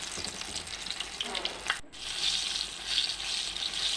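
Jackfruit fritters (chakkapazham pori) fry in hot oil with a steady, close crackling sizzle that drops out for a brief moment before resuming strongly.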